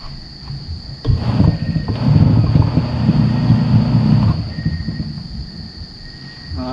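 A repaired washing machine motor spins up with a loud, steady low rumble and whir for about three seconds, then winds down, heard up close.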